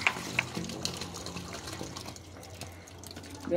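Water running out of a pipe at a borewell site during a Bangalore site inspection, a soft uneven gurgling flow with occasional clicks and knocks, fairly close.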